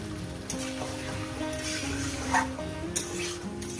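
Mutton pieces fry in a pan with a soft, steady sizzle and scattered faint crackles and pops, quiet and unbroken, with no talking.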